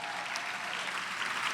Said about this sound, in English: So I think you should give them a round of applause.